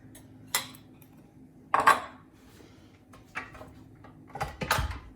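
Cookie dough with nuts being mixed in a bowl: a few scattered scrapes and clinks of utensil against bowl, sharp bursts spaced over quiet stretches, with a louder clattering cluster near the end.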